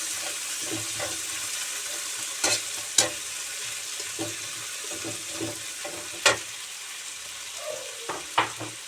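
Tomatoes stir-fried in a pan for a home-cooked sautéed Malabar spinach and egg dish: a soft, steady sizzle with scattered utensil scrapes and a few sharper clinks against the pan, close and moderately quiet with no talking.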